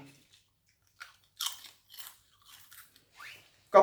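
Crisp crunching bites into thin, flat Lay's potato chips, a handful of sharp crunches spaced apart with quiet between them, close to the ear.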